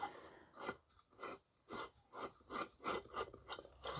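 A light bulb being screwed into a photography light fitting, heard as quiet, repeated scraping twists in short rhythmic bursts, close and faint.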